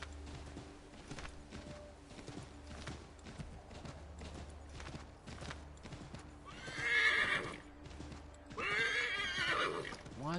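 Horse hooves clip-clop at a steady walking rhythm in Assassin's Creed 3, joined by two loud, close neighs or whinnies toward the end.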